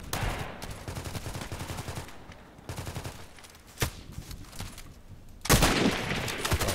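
Sniper rifle fire in a video game rings out as sharp, loud cracks among a busy stretch of game noise, with one clear shot near the middle and a heavier blast toward the end.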